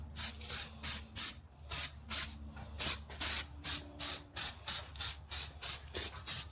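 Aerosol spray paint goes on as a first coat over a car water pump for a 1971 Ford Torino engine, in a steady series of short, close hissing bursts with a low motor-like hum underneath.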